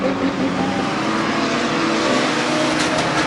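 Race cars roar around Midvale Speedway during a night of destruction event, a loud, continuous engine drone from a close pack of cars with no break.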